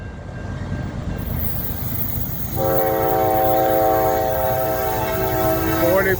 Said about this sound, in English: Looks like we got an eastbound loaded coal train coming in, going to Lamberts Point.